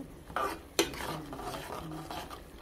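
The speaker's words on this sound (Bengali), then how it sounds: "এখানে ভালোভাবে মশলাটা কষাই নিব" Spices are stir-fried in a pan for a potato fry with dried loitta fish, heard as a few brief scraping stirs of a utensil against the pan over a faint sizzle, quiet and close, with no talking.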